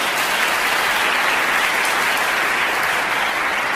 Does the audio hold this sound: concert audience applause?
yes